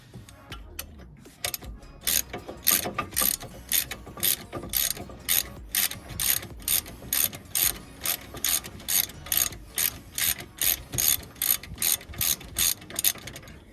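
A ratchet clicks in quick, regular bursts while unwinding a brake caliper carrier bolt on a Ford Focus. Close, crisp, evenly spaced strokes continue for over ten seconds with no talking.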